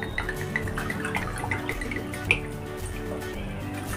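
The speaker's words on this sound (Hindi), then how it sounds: "एक प्याली चीनी, इसमें तीन प्याली पानी डालेंगे।" Water is poured from a cup into a pan to make sugar syrup for gulab jamun, heard as soft, steady trickling and dripping close by with a small clink partway through.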